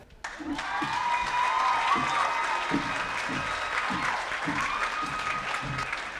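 At a high school graduation ceremony, the audience breaks into steady applause that swells in quickly and holds, many hands clapping at once in a large hall, with a faint voice beneath.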